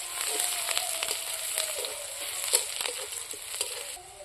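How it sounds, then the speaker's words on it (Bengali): Onion pieces sizzle in hot oil in a pan while cooking a fish and taro curry, a soft, even frying hiss with intermittent pops and stirring clicks, fairly quiet and close, without any voice over it. "কুচিগুলো একটু ভাজা ভাজা করে নেব।"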